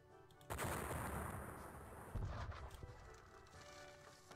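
Massed musket and cannon fire from a Napoleonic battle in the John Tiller Napoleonic Series wargame, Battle of Dennewitz: a dense, loud volley crackles in, then a second burst lands, and both roll on as a continuous rumbling fusillade.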